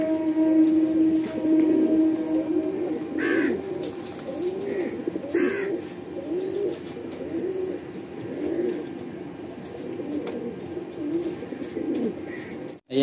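Pigeons coo in a Kolkata loft of Andhra Lalsira birds, a steady, close chorus of soft rolling coos repeating throughout with no talking.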